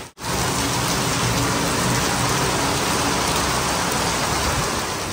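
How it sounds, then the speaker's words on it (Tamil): Heavy rain pours steadily at a home, a dense continuous hiss of downpour with drops drumming on surfaces, loud and unbroken throughout with no talk. "மழை வந்து பெய்ய ஆரம்பிச்சிருச்சு"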